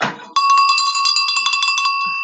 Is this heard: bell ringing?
yes